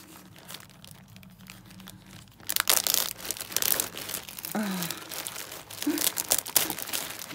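Paper crinkles and tears as a Blythe doll advent calendar package is unwrapped, starting quiet and then turning into loud, close, continuous rustling and crumpling for several seconds, with no talk.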